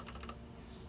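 Keys pressed on an ETC Ion Xe lighting console keypad: a quick run of four or five soft, close clicks in the first moments, then a quiet room hum.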